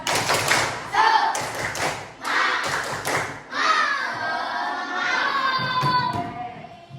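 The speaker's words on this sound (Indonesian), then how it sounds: "Coba sekali lagi ya, tepuk semangat." A primary classroom of children performs a rhythmic spirit clap, with clustered hand claps and thumps in a patterned beat alongside children's voices and chanting.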